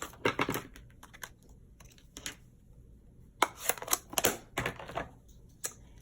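Paper being cut down by hand while making a Stampin' Up! Harvest Hellos apple punch card, giving a few close, crisp snips and rustles in bursts separated by quiet pauses.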